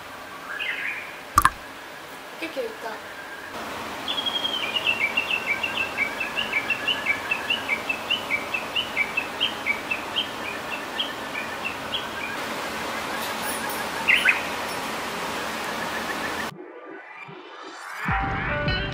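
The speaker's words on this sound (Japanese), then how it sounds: "朝、鳥のさえずりで目が覚めました。" Morning birdsong in Shikoku, Japan: a bird repeats a quick rhythmic chirping phrase over a steady rushing background like flowing water, with a few sharp knocks and other calls.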